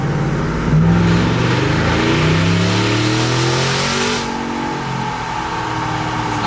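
A supercharged 650hp 2024 Chevrolet Silverado ZR2 Bison pickup engine revs hard on a dyno in fourth gear, climbing steadily in pitch, roaring loudly and close, then eases off to a lower drone.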